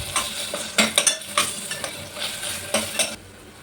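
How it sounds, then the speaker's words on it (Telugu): Fresh ginger garlic paste frying in a pan, close loud sizzling broken by a run of sharp spatula clinks and scrapes against the metal, with no talk, ending abruptly. "ఇప్పుడు మనము అల్లం వెల్లుల్లి పేస్ట్ యాడ్ చేసేస్తాం."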